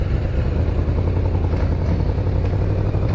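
Yamaha VMAX motorcycle running as it is ridden, a steady, loud, low engine drone that holds throughout with no break and no talk over it.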